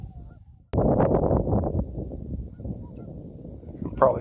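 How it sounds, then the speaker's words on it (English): A flock of sandhill cranes calls in flight as it leaves a Midwest wetland. A loud burst of overlapping rattling calls starts suddenly, then thins into a steady chorus of cries, with a sharp call near the end. "Another batch of sandhills leaving from over there to my left."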